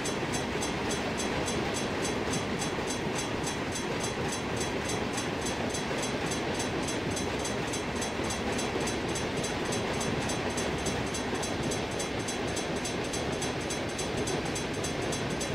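A very long train rolls past steadily in a train simulator game, a continuous dense rumble with rhythmic clicking of wheels over rail joints, loud and unbroken throughout with no talk.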